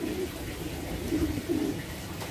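Soft, low coos from Indonesian contest pigeons at a pigeon farm repeat a few times against a steady background murmur, fairly close.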